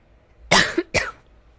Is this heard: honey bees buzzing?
no